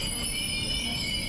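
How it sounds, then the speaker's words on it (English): ZMC electric multiple unit, two coupled sets, one modernized and one in old ONCF livery, rolling into a Moroccan station platform on the Casablanca line: steady loud rumble with high wheel squeal tones held throughout, no talk. "I'm able to reach the platforms on time to film the arrival of our train for today, composed of two ZMC electric multiple units"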